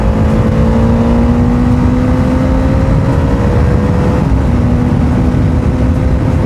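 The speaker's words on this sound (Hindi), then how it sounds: "यहीं पर थोड़ा बाइक खींचते, बाइक को कितना जाता है देखते हैं।" A Bajaj Dominar 400 motorcycle pulling hard on the road, giving a loud continuous engine drone whose tone climbs slightly, heavily mixed with wind rush, and no voices.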